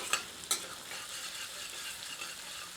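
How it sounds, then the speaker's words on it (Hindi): Crushed ginger and garlic sauté in oil over medium heat for a mutton kidney masala, giving a steady close sizzle broken by two sharp spatula clicks near the start, with no talking. "आंच को मध्यम करके इन्हें 1 से 2 मिनट भूनते हैं।"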